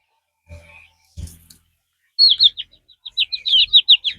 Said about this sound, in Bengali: আমি এখান থেকে যে কোনো 4-5টা পাখি ধরবো আমি